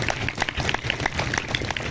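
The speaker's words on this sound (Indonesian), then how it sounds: "Tepuk tangan buat semuanya." An audience claps briskly and steadily for a couple of seconds at a religious community gathering for a Quran endowment program, with a few loud individual claps standing out from the dense patter.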